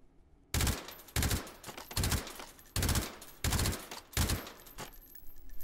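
AAC Honey Badger rifle firing in a VR shooting game with Magpul backup sights: six loud, evenly spaced single shots, each a sharp blast with a short decaying tail, close and alone.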